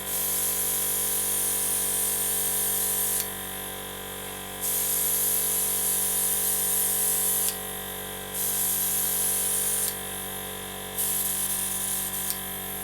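An airbrush hisses as it sprays paint onto a Millennium Falcon model, in several loud bursts of steady spray separated by short pauses, over a constant low electrical compressor hum.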